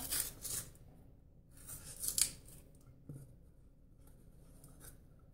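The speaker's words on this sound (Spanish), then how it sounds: "presionamos para abrir la lata" Papery rustling and tearing, then a sharp pop as a can of dough is pressed open, close up and fairly quiet.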